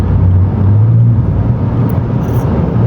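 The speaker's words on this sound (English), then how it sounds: "it's got a nice sound out the back. I wouldn't call that drone, that's just exhaust." From inside an Audi fitted with CanAuto headers and resonated mid-pipes, a deep, loud exhaust rumble drones steadily at low cruising revs, filling the cabin with a constant bass hum.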